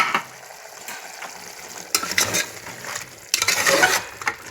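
Mutton curry in a pressure cooker is stirred with a spoon, giving two or three scraping, sizzling bursts against the metal pot with quieter gaps between them.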